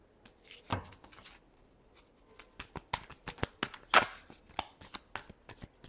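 Tarot cards are shuffled in a series of quick, crisp riffles and taps, close and fairly loud, with one sharper burst near the middle and no talking.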